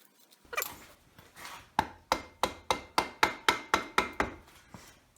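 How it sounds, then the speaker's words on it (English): A rubber mallet taps repeatedly on a motorcycle front wheel during tire removal on a Yamaha Super Tenere, about ten evenly spaced close knocks after a brief rub. "just tapping at this with a rubber mallet has been real helpful"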